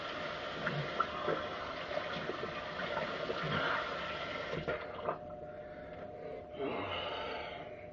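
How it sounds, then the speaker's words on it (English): Tap water runs steadily to rinse lather off a shaving soap, a soft, close gush that briefly drops away midway and then resumes. "let's rinse."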